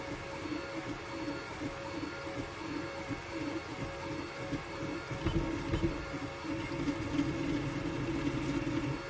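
Voron 2.4 3D printer laying down the brim of a Benchy print, a steady mechanical hum and whir of stepper motors and fans with fluctuating motion tones, close and continuous, with no talk.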